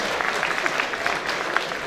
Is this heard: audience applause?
yes